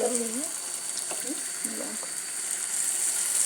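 Steady hiss of food frying in hot oil fills the background while a voice talks briefly over it.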